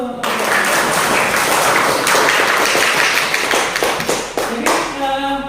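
A classroom audience applauds, dense steady clapping from many hands filling the room loudly for several seconds before tapering off.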